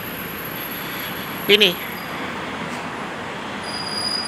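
A steady, rumbling wash of an elevated railway train fills the station at Soekarno-Hatta airport, with a brief sharper burst near the middle and a single short spoken word over it.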